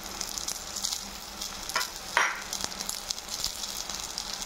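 Onions, garlic and ginger frying in hot oil in a pan give a steady close crackling sizzle, with occasional stirring scrapes and one brief louder spatter burst, and no talking.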